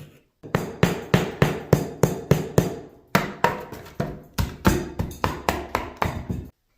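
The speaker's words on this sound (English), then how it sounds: "I'd rather just use my utility knife and then use my hammer to knock" A hammer knocks a utility knife through bathroom ceiling drywall in a steady series of sharp, evenly spaced taps, near and clear, with a brief pause midway before the rhythm resumes.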